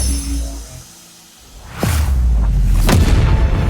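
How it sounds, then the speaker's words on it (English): An explosion in an animated death battle hits with a sudden deep boom and a whooshing rush, then a rumbling roar continues loudly after a brief quiet lull. "Oh, explosion."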